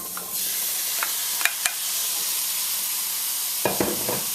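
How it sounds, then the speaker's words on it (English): Trimmed string beans going into a sizzling Caribbean curry with shrimp, a loud continuous hiss with a few spoon scrapes and clatters as they are stirred in, close with no talk. "Next up, I'm going to go in with all that trimmed beans."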